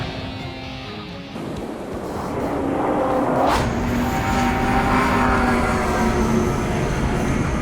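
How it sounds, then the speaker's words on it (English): In the video game Ace Combat 7, a jet aircraft approaches at high speed over a steady rumbling backdrop, and its rising whoosh sweeps past near the middle. "Aircraft approaching at high speed."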